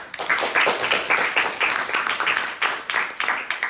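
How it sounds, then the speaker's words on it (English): Applause from an audience at a venture pitch competition, a dense, steady wash of many hands clapping at close range that fills the whole stretch with no talk over it. "Let's give it a round of applause."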